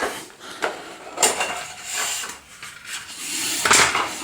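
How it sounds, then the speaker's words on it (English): Plastic lid of a vintage Ekco (Thorn) fluorescent light fitting pulled off by hand after its screw is released, giving a few close rubbing scrapes and light clicks with a louder snap near the end. "We'll pull the lid off"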